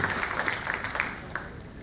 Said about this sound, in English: please join me once again in a round of applause for our individual speaker